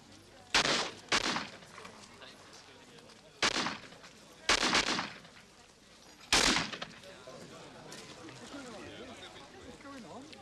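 Several sharp, loud gunshots ring out in separated bursts at a team shooting competition, some in quick pairs, with faint background noise in between.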